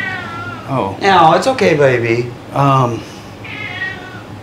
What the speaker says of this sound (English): I don't want to risk that cat getting in and out.